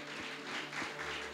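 A church congregation applauds in a brief burst of steady, dense clapping that is soft and somewhat distant, with a low hum underneath.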